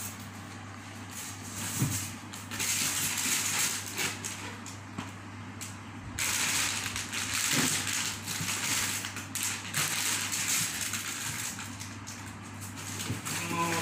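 Crinkly plastic rustling and crunching as an ice pack is squeezed and handled up close, in irregular bursts.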